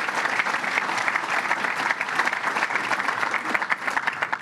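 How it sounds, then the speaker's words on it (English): An audience at a fire department announcement breaks into steady, dense applause for the state environmental commissioner, a loud, continuous wash of many hands clapping with no voices above it. "Let's give him a round of applause."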